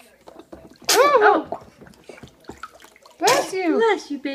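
A two-month-old baby boy sneezes twice during bath time, each sneeze a sharp, close, high burst with a short pause between, with faint water and quiet sounds in the room.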